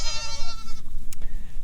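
Boer goats in a farm paddock bleat loudly and close by, one long wavering call followed by shorter bleats amid a low rustling background.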